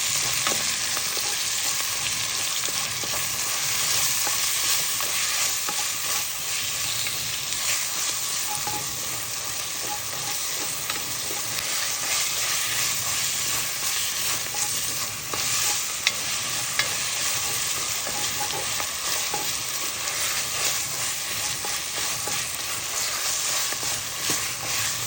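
Turkey frying in a pan while being stirred for a creamy turkey pasta: a steady, loud sizzle runs throughout, with faint scraping from the stirring and no voices.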